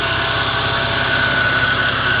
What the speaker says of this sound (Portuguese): E aí o famoso motor 6 cilindros, tá?